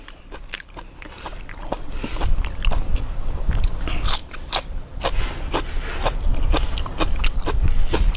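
Close, crunchy chewing of crispy fried beef brisket with repeated crisp bites and mouth sounds, steady and fairly loud, with no talking.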